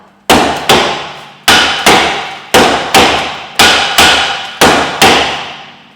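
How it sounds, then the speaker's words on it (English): A hammer strikes a seized rear wheel hub on a Toyota Yaris to shock it loose, giving seven loud, sharp metallic blows at a steady pace, each ringing briefly before the next. "When you get so much load on this, it sometimes helps to try and shock it like this with your hammer."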